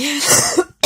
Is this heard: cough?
yes